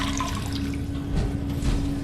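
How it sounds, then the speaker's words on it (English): Dirty water splashing and gurgling as bottles are refilled in Fallout 4, a steady watery rush with a low hum underneath, continuous and fairly close. "Alright, so we're going to refill these bottles, get more dirty water."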